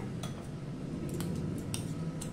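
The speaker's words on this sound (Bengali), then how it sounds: "জল দিয়ে ভালো করে আমি মেশাতে হবে" A ladle stirs vegetarian bhindi (okra) curry, thickened with ground rice paste, after water is poured in. A steady, close churning texture with a few sharp metallic clinks of the ladle against the pot.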